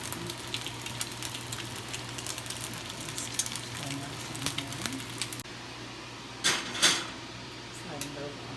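Eggs fry in butter in a pan with a steady close sizzle, joined by light clinks of utensils and a couple of louder scraping sounds near the end, while a person talks over it.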